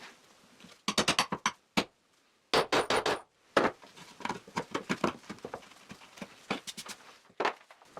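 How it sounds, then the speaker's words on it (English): A screw being tapped into the underside of a wooden board with a hammer, its hexagonal head marking the wood; several loud, close, sharp knocks arrive in quick clusters, then lighter scattered taps. "I insert the screw into the holes from the bottom of the board, and I hit it to mark the hexagonal shape of the head on the board."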